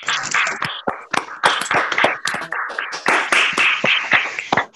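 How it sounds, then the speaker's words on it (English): Scattered handclaps from an online audience unmuting to applaud alumni teams, uneven and echoey, several people clapping at once in bursts for a few seconds. "please unmute yourselves and give these teams, the alumni that are presented, a big round of applause for their efforts"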